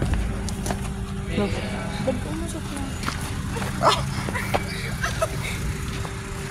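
A dog barks a few times outdoors, partly buried under people talking and steady background noise.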